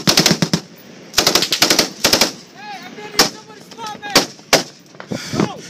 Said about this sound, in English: Shoot higher, Bruce!